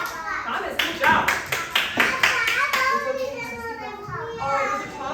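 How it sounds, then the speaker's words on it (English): Group of children clapping for a classmate named Thomas, a run of rhythmic, fairly close claps over about two and a half seconds, followed by children's chatter and voices. "Let's give Thomas claps again."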